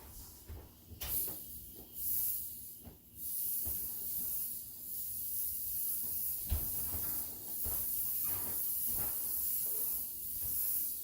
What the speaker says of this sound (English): So the first thing you want to do is spray it.